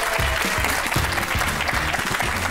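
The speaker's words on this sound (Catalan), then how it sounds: "Un aplaudiment pel perdedor, gràcies." Studio audience applauding the loser of a television game show, a brief burst of loud, dense clapping with music or voices faintly underneath.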